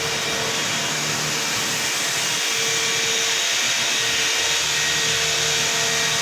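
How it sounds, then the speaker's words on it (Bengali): A circular knitting machine running at high speed in a factory while making single jersey fabric, giving a dense, continuous whirring roar with a steady hum and no pauses or talking. "দেখো এই যে হাই স্পিডে মেশিন ঘুরতেছে।"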